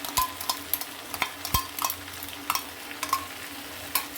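A spatula scrapes and stirs masala mixed with salt, a pinch of sugar and sour curd in a pan over a low flame, giving quiet intermittent knocks and scrapes above a soft, steady sizzle.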